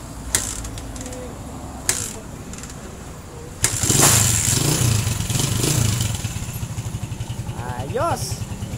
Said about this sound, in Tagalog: Ito yung motor ni customer. 2009 na TMX 155.